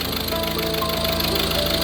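A car engine with a suspected blown head gasket idles close by, producing a steady, rhythmic mechanical chugging and hum with a faint knocking pulse, running alone without talk.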